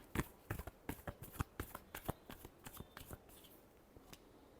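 Tarot cards are shuffled close up in a quick run of crisp slapping riffles that thin out and soften toward the end.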